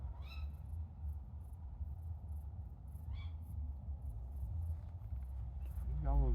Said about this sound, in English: Owls